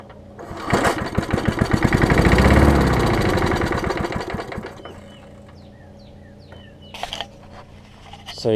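A Murray side-shaft lawn mower engine, primed with starter fluid while still mounted on its deck, cranks up and runs loud and close with a rapid, rattling beat, swells, then settles to a rough steady idle as a voice speaks briefly.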